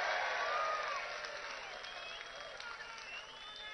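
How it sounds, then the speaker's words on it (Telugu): Rally crowd applauding together at a political gathering in Andhra Pradesh, a steady dense wash of clapping that fades slightly after the first second and carries on evenly. "గట్టిగా చప్పట్లు కొట్టి మీరందరూ"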